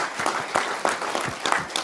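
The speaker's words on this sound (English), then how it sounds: "So I want to give you all a big round of applause" Audience applause breaks out in a business setting after thanks for a year of work, a steady wash of many hands clapping with periodic louder swells, fairly close and continuous throughout.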